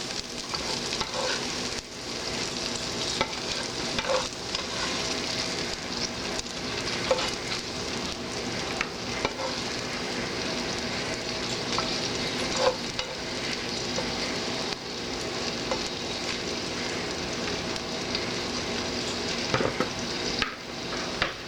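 Onion and green pepper frying in oil in a pot, a dense continuous sizzle with occasional stirring scrapes, close and steady throughout with no talking.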